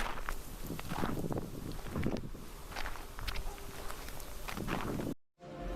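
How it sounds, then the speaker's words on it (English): Added sound effects of footsteps and wind: irregular crunching steps with rustling over a constant windy rush, ending in a sudden brief cutout. "try to add some sound effects to make it sound a little bit more realistic. Maybe some wind. I don't know, maybe some footsteps."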